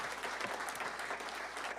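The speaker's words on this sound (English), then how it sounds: "Let's give a big round of applause to our sponsors." Audience applause for event sponsors at a press event, a short burst of dense clapping from a small crowd, moderately distant and steady throughout.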